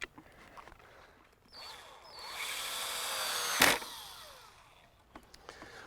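A power drill drives a screw into the wooden frame of a homemade tomato sun drier, with one sustained whirring run building over a couple of seconds, then a sharp bang, and scattered small clicks around it.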